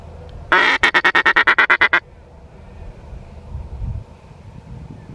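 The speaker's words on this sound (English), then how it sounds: "Oh, big flock. There's a black ducks." A flock of black ducks quacking in a hunting marsh: a loud burst of about ten rapid, evenly spaced quacks, then fading into faint wind and low rumble.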